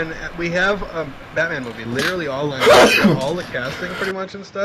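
A single sharp sneeze bursts out in the middle of a casual conversation among several people, loud and close, with talking continuing on both sides of it.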